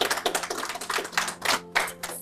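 Audience applause breaks out at a television show, a dense patter of many hands clapping close and lively, rising and falling in short bursts over about two seconds with no talk.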